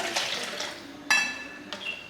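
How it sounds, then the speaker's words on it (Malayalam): Water is poured into a mixer grinder jar while making homemade ghee, a close splashing gush with a brief clatter and a second pour, fairly loud, no talk over it. "എന്നിട്ട് ഇതിലോട്ട് കുറച്ച് വെള്ളം ഒഴിച്ചു കൊടുക്കാം."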